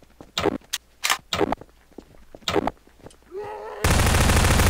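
SMG and shotgun fire in Garry's Mod co-op zombies: a handful of separate, punchy shots spaced irregularly, then a steady loud roar of game noise takes over near the end.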